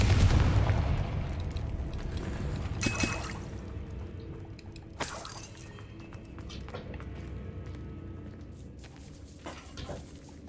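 A Confringo spell explosion in Hogwarts Legacy, set in a decaying catacomb: a booming blast at the opening, then two more sharp bursts spaced a few seconds apart, each trailing into a rumbling echo.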